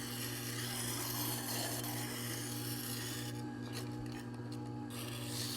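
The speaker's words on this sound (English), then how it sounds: "we can simply start up our machine like so and set our card scraper here" A JET JSSG-10 sharpening machine grinding a steel card scraper, a steady close rasping and rubbing drone over the machine's constant motor hum, continuous throughout with no talking.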